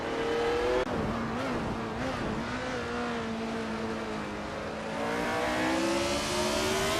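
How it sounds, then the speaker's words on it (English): 1976 Formula One cars race on a track in a video game, their engines whining continuously at high pitch with overlapping tones that dip and climb as the cars accelerate and shift. "The F1 1976 cars seem evenly matched on this track, with close lap times."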